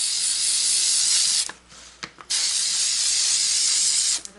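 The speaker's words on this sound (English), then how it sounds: "I'm going to use Mod Podge gloss spray." A Mod Podge gloss spray can hisses in long bursts, pausing briefly twice before resuming, close and fairly loud.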